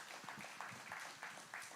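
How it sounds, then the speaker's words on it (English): Faint applause from a conference audience for a panel of speakers, a steady soft patter of clapping at a distance with no talk over it. "Let's give a round of applause to all of our panelists"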